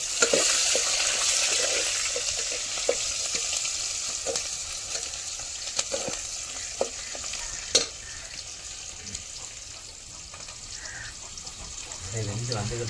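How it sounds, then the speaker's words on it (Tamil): Onions sauté alone in a pan for a country chicken curry, giving a steady, close frying hiss broken by scattered clicks and spatula taps, with faint talk near the end. "வெங்காயத்தை மட்டும் போட்டு அப்படியே லேசாக வதங்க வரணும்"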